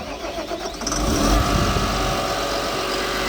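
The Dodge engine of an Atlas material handler crane cranks briefly, catches with a rising surge, and settles into a steady, close diesel running sound.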